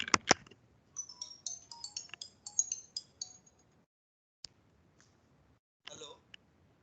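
A mobile phone rings with an incoming call in the middle of a thermodynamics lecture: a quick run of bright electronic ringtone notes repeating for about three seconds, followed by a few sparse clicks, at moderate level in a quiet room.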